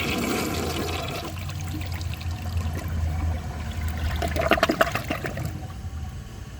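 A Gerber Aqua Saver toilet from 2004 flushes with a raised tank water level, water rushing and gurgling steadily before swelling into a louder, sputtering drain near the end, close and alone.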